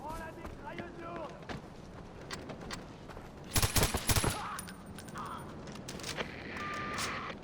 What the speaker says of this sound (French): Prends la mitrailleuse lourde!